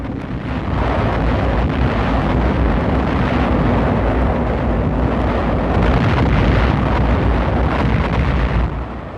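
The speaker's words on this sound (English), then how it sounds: "In these British films, the Tirfitz is seen firing her 15-inch guns" The German battleship Tirpitz fires her 15-inch guns at sea, a heavy, sustained roaring rumble that is loud, blown about and mixed with wind noise, with no voices.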